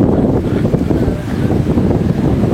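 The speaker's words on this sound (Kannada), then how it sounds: "ನೀರ್ ಮೇಲೆ ಬರ್ತಿರೋ ಗಾಳಿ" Strong wind rushes across open water near a shore, a loud, steady roar buffeting the microphone with low rumbling gusts and no voices.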